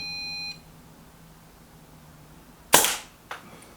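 A Brocock Concept Lite air rifle fires one sharp, close crack, followed a moment later by a fainter short tap. A brief electronic beep sounds at the start, then there is quiet background.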